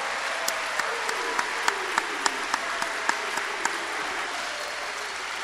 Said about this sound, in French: Une ovation nourrie